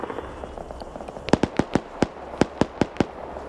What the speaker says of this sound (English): Oh, they hear that 50 firing.